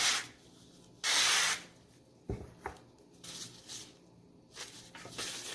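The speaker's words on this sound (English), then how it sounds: "I'm going to spray this down." Short hissing bursts of aerosol cooking spray, one long and several briefer puffs, close by, with soft rubbing handling noises between them.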